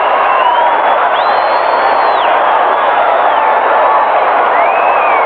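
Large crowd roaring and cheering throughout a professional football game between the Michigan Panthers and Los Angeles Express, a dense, steady stadium wash with a few whistles rising above it, loud and continuous.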